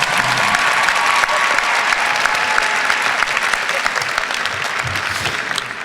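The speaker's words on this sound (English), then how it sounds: "She deserves a warm round of applause." Steady applause from a large crowd at a graduation commencement ceremony fills the space, sustained and loud throughout, with a few faint voices underneath.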